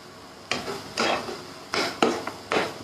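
Masala sautéing in a pan while being stirred, giving a few sharp scrapes and knocks of a spoon against the pan in bursts, close and fairly loud, with no talking.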